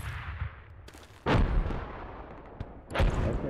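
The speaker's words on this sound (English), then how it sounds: "There's the mortars." Mortar fire in the military shooter game Project Reality: two heavy booming blasts about 1.5 seconds apart, loud and close, with lighter thumps and rumble around them and no talk.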